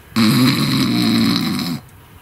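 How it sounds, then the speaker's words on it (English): A person snoring at night while camping gives one long, loud, rasping snore that stops abruptly, heard close up with no talking. "He's never stopped snoring all night."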